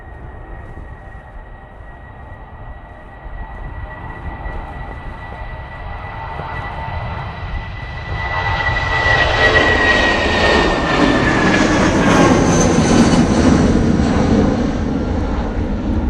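An Aurigny propeller airliner from Guernsey comes in to land at Manchester Airport, a steady engine drone with a rising tone that grows louder and nearer as it approaches.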